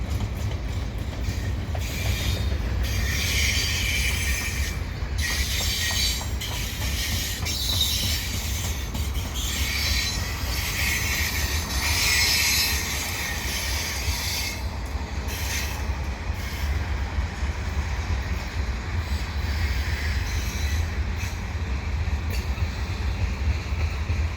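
A CN mixed freight train with four engines rolls past at Ville St Pierre, a steady loud rumble of wheels with rhythmic clickety-clack and occasional squeal, continuous throughout with no talk.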